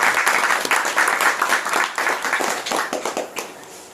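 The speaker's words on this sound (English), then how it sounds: "let's give all of these wonderful devotees a big round of applause" A gathering of devotees gives a short round of applause, made up of dense, lively hand clapping from a modest crowd that tapers slightly near the end.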